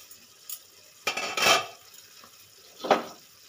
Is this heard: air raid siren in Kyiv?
no